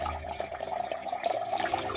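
Cold tap water running into a glass, a steady splashing pour with a little bubbling through the whole stretch.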